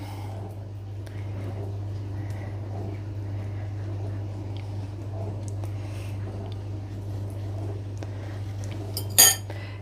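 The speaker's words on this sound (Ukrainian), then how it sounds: "Тут притиснемо виделкою." Faint scraping and soft taps of a fork pressing raisins down in a salad dish over a steady low hum, ending with a sharper clink near the end.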